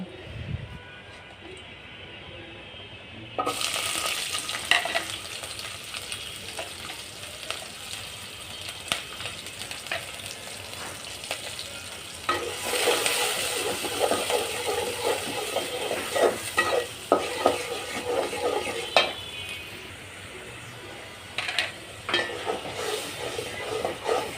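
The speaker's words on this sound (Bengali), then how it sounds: "তেলটা গরম হলে পেঁয়াজ কাঁচামরিচ দিয়ে সেমভাবে নেড়ে চেড়ে তারপর হচ্ছে মশলা কষিয়ে চাল কুমড়াটা দিয়ে দিব" Onion and green chili fry in hot oil with spices, a loud bright sizzle that bursts in as ingredients hit the pan, then crackles on with intermittent stirring scrapes.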